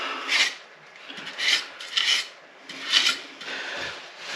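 Trowel working lime plaster into the corners of a room wall, with five or six separate scraping, rasping strokes spaced about half a second to a second apart, close and clear with no talking.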